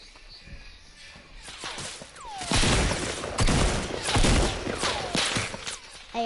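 Gunfire and explosive bursts in a Fortnite match: a cluster of loud, crackling blasts and shots builds mid-clip, with quieter scattered pops before and after, fairly close.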